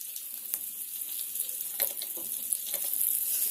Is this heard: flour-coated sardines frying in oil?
yes